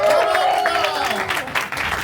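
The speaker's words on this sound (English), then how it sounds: "Please give him a round of applause." A live interview audience at an event with Piolo Pascual and Belle Mariano gives steady applause that fills the space throughout, with a tonal ringing or music line running beneath the clapping.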